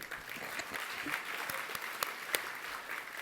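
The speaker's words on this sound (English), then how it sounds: "You don't have to clap for me." Applause at an awards ceremony, a steady patter of clapping from an audience with a few sharper claps standing out, sustained for a few seconds without speech.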